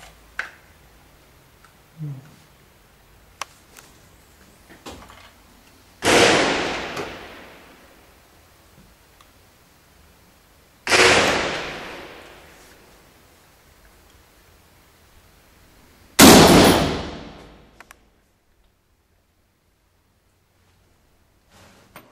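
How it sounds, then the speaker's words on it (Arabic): Sniper gunfire in a conflict zone, three loud single shots spaced roughly five seconds apart, each with a long echoing decay, between faint scattered clicks and no voices. "قناص من قبل يطلق علينا"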